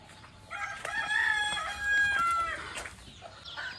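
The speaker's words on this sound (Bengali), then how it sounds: "দেখো গাইস কতগুলো মুরগি, আমাদের এতটা মুরগি।" A rooster crows loudly nearby while chickens cluck around it, a single drawn-out call with softer clucks before and after.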